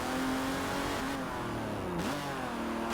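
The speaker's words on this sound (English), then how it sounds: "hope you can hear the engine" An Aston Martin DBR1 classic race car engine revs hard in the Forza racing game, a loud mid-pitched engine note that climbs and dips as the throttle changes. There is no talking over it.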